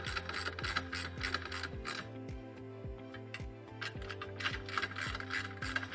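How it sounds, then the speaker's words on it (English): A 10mm socket ratchet tightening leveling kit bolts on a vehicle drawer system: rapid, rhythmic metallic ratcheting clicks in steady bursts, close by and clear, with brief pauses between strokes. "we're going to use the 10mm socket and just snug everything down"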